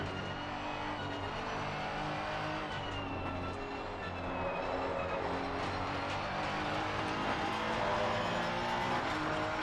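Race car with a Honda VTEC engine in a racing video game at Zolder, a steady droning engine roar with a buzzing tone that rises gradually in loudness, heard alone without talk.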